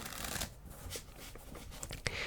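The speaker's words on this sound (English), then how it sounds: "I'll give it a good shuffle for those who don't trust me." A quick, quiet run of card shuffling, soft papery riffles and taps up close, with a faint bit of other noise mixed in.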